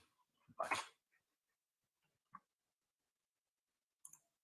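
A dog gives one short, loud yelp-like bark indoors, followed by a couple of faint whimpers and small clicks in an otherwise quiet room.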